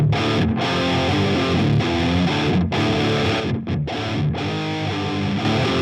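An electric guitar plays dense distorted chords through a POD HD/Helix, with a compressor placed after the amp squeezing it into a loud, even, aggressive wall of sound, with no talk.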